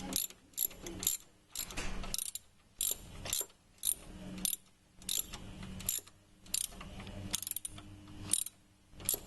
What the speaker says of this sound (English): We're going to tighten up this little pulley here.